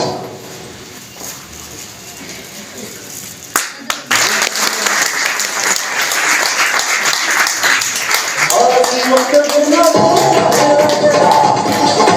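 Sustained audience applause fills a seminar hall, starting thin and then swelling abruptly into dense, steady clapping that carries on loudly to the end, with voices faintly audible beneath.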